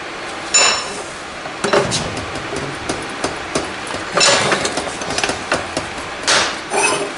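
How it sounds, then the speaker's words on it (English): Metal-on-metal clanks and knocks from an arbor press seating a new-style bushing in a RE5R05A transmission, several sharp separate hits spread across the span with quieter handling noise between. "I always use an arbor press for this"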